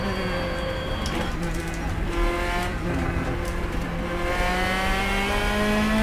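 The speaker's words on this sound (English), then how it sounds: "the engine sounds, I've already used the mods because they were ridiculously bad before" Race car engine from the sim racing game Petrobras De Marcas, modded engine audio: a loud, sustained engine note with clear harmonic tones rising and falling through revs and gear changes, continuous throughout.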